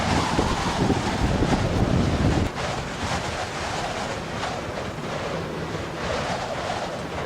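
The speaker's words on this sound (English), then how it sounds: "At this latitude, the wind is fairly constant, but it makes some beautiful patterns on these lakes." Constant wind blows across the lakes of Torres del Paine, a loud, steady roar of gusts buffeting the microphone. It drops slightly in intensity after a couple of seconds and then holds at an even rush.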